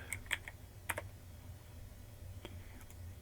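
A name is typed on a computer keyboard during CAD modeling, heard as a few quiet, scattered key clicks over a faint room hum.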